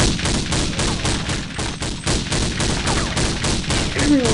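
Sustained automatic gunfire in Counter-Strike 1.6 on a jailbreak server, dense overlapping bursts of machine-gun shots rattling continuously at steady loudness with no talk.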